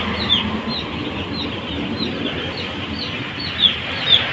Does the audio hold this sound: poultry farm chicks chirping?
yes